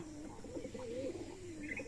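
Soft, rolling pigeon coos repeat close by, low and throaty, over a steady background hum.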